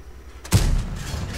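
A single loud boom of a tank cannon firing from the French Char Futur in World of Tanks, a sudden heavy blast after near silence that rumbles and decays over the following second.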